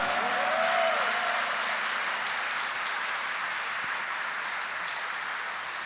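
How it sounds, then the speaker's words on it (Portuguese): A church congregation at Sunday Mass claps loudly, a dense, even wash of applause that swells early and slowly tapers over several seconds, with a faint tonal sound near the start. "Esse amor merece um grito e uma salva de palmas bem forte"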